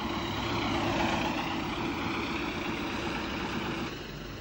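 A brand new diesel railcar, number 19, on a 1940s–50s Donegal narrow-gauge railway in Ireland, passing close by with a steady broad engine drone and rumble that eases off slightly near the end.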